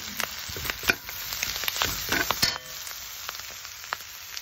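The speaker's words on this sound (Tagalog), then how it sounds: "nagisa na natin ang luya" Minced ginger sautés in a hot pan, a crackling sizzle with quick stirring scrapes and sharp spatters, loudest early on and easing toward the end, with no voices.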